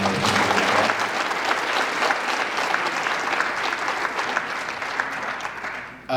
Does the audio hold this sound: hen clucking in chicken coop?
no